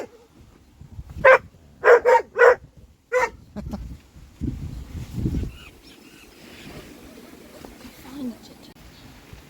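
Vizsla dogs barking outdoors at a windy winter campsite, five sharp, fairly close barks in a quick uneven burst, followed by a person's muffled low voice and gusty background noise.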